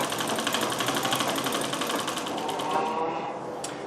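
A Singer 24-52 chain stitch sewing machine runs steadily, its rapid even needle clatter close and continuous before easing off near the end.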